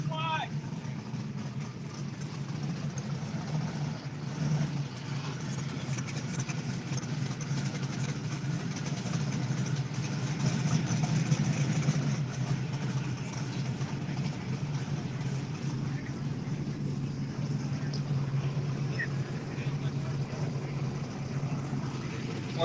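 Drag race cars at a no-prep bring-your-own-tire event idle at the start line, a steady low engine rumble holding evenly for the whole stretch with a slight swell near the middle, under faint background noise.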